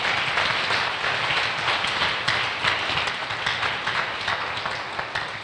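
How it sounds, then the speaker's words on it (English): A church congregation claps during a sermon, a dense, sustained burst of applause from many hands, loud and fairly close, steady throughout with no speech over it. "Somebody clap for Jesus."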